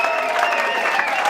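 Comedy-show audience applause at a charity benefit, a brief dense burst of clapping from a crowd, steady and fairly loud.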